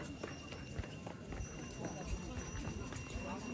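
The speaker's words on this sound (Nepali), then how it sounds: "कुद्दैछ घोडा" Horse hooves clip-clop in a quick, steady rhythm at moderate distance, with voices and outdoor bustle underneath, on a mountain trail in Nepal.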